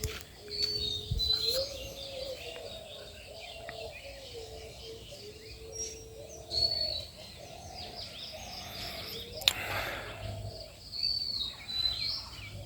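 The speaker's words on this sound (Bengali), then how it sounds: "কত ধরনের পাখি ডাকতেছে এখানে" Many kinds of birds call at dawn in a village, with repeated chirps, tweets and whistled phrases in irregular bursts over faint background insects, moderately close and without speech.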